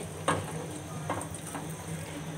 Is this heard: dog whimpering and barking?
no